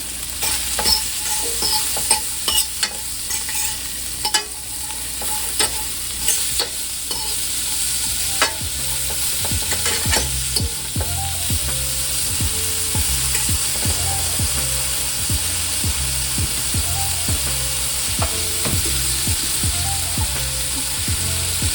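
Salmon browning in a pan for whiskey glazed salmon, with a steady loud sizzle of frying broken by repeated clicks and scrapes of stirring and turning.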